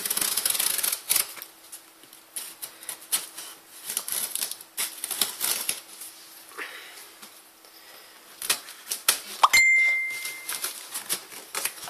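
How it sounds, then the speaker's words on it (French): A Messenger app notification chimes once, a short clear tone heard about three-quarters through, amid close, continuous rustling and tapping of cardboard and paper as a box is unpacked. "si vous entendez des petits bruits, c'est normal, c'est mon Messenger qui s'est mis en route"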